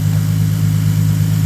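A 1997 Toyota Supra engine running, a steady, close, low humming drone with an even idle-like pulse and no change in pitch.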